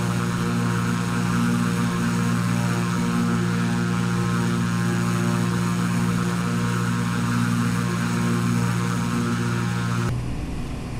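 A propeller aircraft engine drones steadily in flight near Noi Bai airport, a loud, continuous buzzing hum with strong tonal harmonics that cuts off abruptly near the end, no talk.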